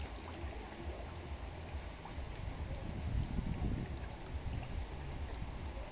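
Steady rain pattering onto a carp pond in a constant, close, even hiss with a dense low rumble and no pauses.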